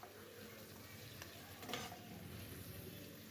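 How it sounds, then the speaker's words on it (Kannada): Green chillies fry and sizzle in a pan with a soft, steady crackle and occasional stirring scrapes. The sound is quiet and close, with no one talking. "ಹಸಿಮೆಣ್ಸಿಕಾಯಿ ಹಾಕ್ಕೊಂಡು ಸ್ವಲ್ಪ ಬಾಡಿಸ್ಕೋಬೇಕಾಗತ್ತೆ"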